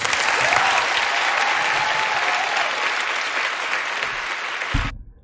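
Studio audience at The View in 2014 bursts into loud, sustained applause with cheering for a young singer, a dense clapping wash that holds steady for about five seconds before cutting off abruptly.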